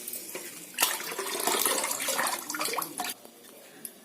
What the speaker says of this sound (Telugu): చూడండి, తెల్ల నీళ్ళు వచ్చే వరకు కడగాలి.